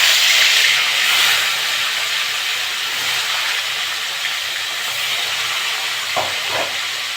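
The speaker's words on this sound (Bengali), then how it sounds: "মাছগুলো ভেজে নেব।" Tilapia fish fry in hot mustard oil, giving a loud, steady sizzle and hiss close by, with a couple of soft clunks near the end.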